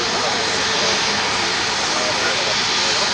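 An EasyJet neo airliner takes off at Manchester Airport with a loud, continuous roar of jet engines that stays steady throughout and drowns out a voice talking underneath.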